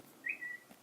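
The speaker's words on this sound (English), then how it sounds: "Sorry for the whistle." A short whistle at a slightly rising pitch, faint and brief in a quiet room, made of two quick tones with no talk over it.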